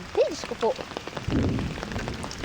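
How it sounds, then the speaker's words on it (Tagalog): Heavy afternoon rain sets in partway through as a steady broadband rush that keeps going to the end, with a voice exclaiming and talking over the start. "Lakas ng ulan ngayong hapon guys."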